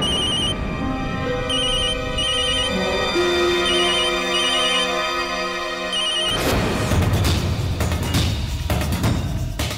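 A phone ringtone chirps in repeating bursts, then cuts off abruptly and gives way to rustling and clattering noises.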